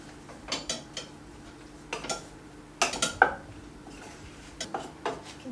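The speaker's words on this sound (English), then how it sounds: "Now we can stir this up a bit more" Stirring a tofu dish in a pan, with a run of short, sharp utensil scrapes and clinks against the cookware that come in small clusters and sit close and clear over a quiet kitchen.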